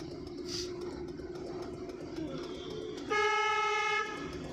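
A single car horn honks for about a second, loud and close, over the steady hum of a running engine in first gear.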